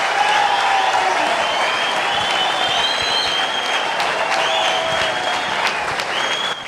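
Studio audience applause at a Tamil talk-show debate (Arattai Arangam), a dense, steady roar of many hands clapping that carries on unbroken from start to finish, with no voices rising above it.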